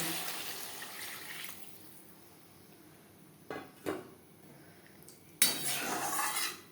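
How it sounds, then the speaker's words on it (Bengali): Water is poured into a pot of fish curry with vegetables, a sudden gushing splash that carries on to the end. Before it come a soft kitchen hiss and a couple of brief clinks of a utensil against the pot. "এবার দিয়ে দেবো জল।"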